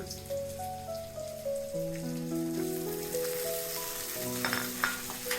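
Dried shrimp tossed into a hot pan with ginger and chili in a village kitchen, frying with a steady, soft crackling sizzle throughout. Faint background music plays underneath, and there is no talking.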